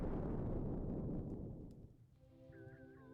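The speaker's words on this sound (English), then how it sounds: "Did we just make fireworks?" Fireworks burst in the video game Darkside Detective, a loud crackling rumble that fades over a couple of seconds into quiet musical chimes and tones.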